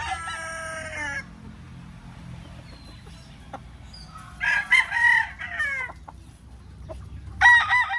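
Breeding roosters and hens of Kelso, GBS and Possum lines in a small farm breeding area: a rooster crows near the start, then more crowing and clucking bursts follow, fairly close over quiet background, no talking.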